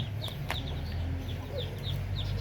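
Native chicks in a cage give repeated high, short peeping clucks over a steady low farm background hum, close and fairly clear, with no talking.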